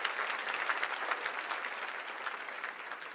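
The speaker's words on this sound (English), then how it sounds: "Can we give you just a round of applause and a hello?" A luncheon audience applauds for a sheriff, a steady wash of many hands clapping at moderate distance, sustained evenly for a few seconds with no talk over it.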